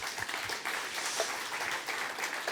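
An audience at a whisky masterclass applauds steadily, a dense wash of clapping hands that carries on evenly throughout, moderately loud and with no talking over it.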